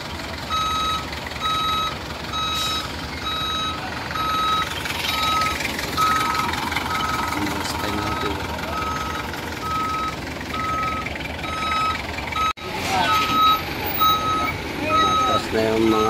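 A truck's reversing alarm sounds at a pier, even evenly spaced beeps repeating over a rumbling engine and busy background noise, with a brief dropout near the end before the beeping carries on.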